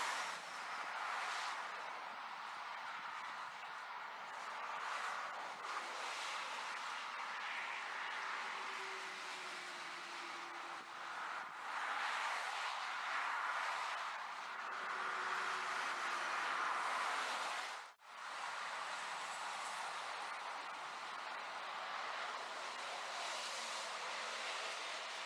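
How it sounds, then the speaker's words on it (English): Road traffic streams past a roadside cafe as a dense, steady roar of passing vehicles with gradual swells, continuous and fairly distant, without any talking. "You probably can't even hear me because of all the traffic going past"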